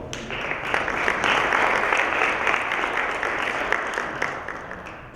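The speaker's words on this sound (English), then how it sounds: "Let's give a round of applause." An audience at a human rights talk at Concordia University applauds steadily for about five seconds, a dense, even clapping that fades slightly toward the end.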